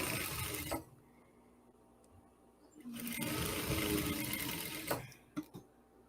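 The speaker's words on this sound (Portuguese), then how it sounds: "aqui eu vou costurar, rebatendo aqui o debrum para o lado avesso" A sewing machine stitches fabric binding folded over to the wrong side, running in two steady bursts with a quiet pause between and a few short clicks near the end.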